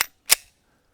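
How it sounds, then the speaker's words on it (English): Two sharp gunshots from a standard unsuppressed Glock 19 pistol crack in quick succession, the second louder with a brief decaying tail, followed by silence. "just the sound of a standard Glock 19, no suppressor"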